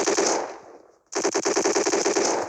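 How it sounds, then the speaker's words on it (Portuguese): Rapid machine gun bursts ring out in a shooter video game, a dense rattle of shots that fades, pauses briefly, then resumes loud and close with a fast steady rhythm. "Pelo menos é muito tiro."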